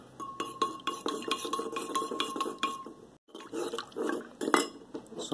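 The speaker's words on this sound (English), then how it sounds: "and then stir all the parts" A spoon clinking against a container while stirring an alcohol and aloe vera gel hand sanitizer mixture, a quick regular series of bright taps with a soft wet swirl, a brief pause, then more scraping and clinks.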